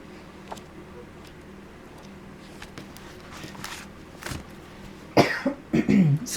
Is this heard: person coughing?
yes